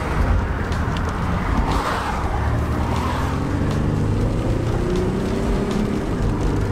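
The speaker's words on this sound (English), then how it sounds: "I'm going to roll my window down so we can hear the engine." Buick Rendezvous engine accelerating through shifts on a wet road, heard from inside the cabin with a window down, a loud, steady drone mixed with tyre and rain noise.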